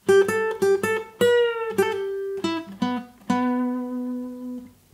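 An acoustic guitar plays a song's intro lick alone: about eight crisply plucked notes in a quick, uneven rhythm, close and clear, with the final low note left ringing and fading.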